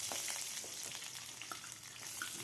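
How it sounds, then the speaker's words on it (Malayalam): Mustard seeds, crushed garlic, dried chillies and curry leaves sizzle in hot coconut oil, making a close, steady crackle with small popping spurts while the tempering is stirred. "1 ടീസ്പൂൺ കടുക് ഇട്ട് കടുക് പൊട്ടി വരുമ്പോൾ കുറച്ച് വെളുത്തുള്ളി ചതച്ചതും വറ്റൽമുളകും കരിവേപ്പിലയിട്ട് ഒന്ന് ഇളക്കി"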